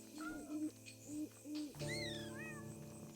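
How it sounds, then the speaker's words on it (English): A bird calling in the video game Grow a Garden, hooting owl-like tones in short repeated bursts, followed by bright rising and falling whistles over soft game music. "Just waiting for this bird to leave."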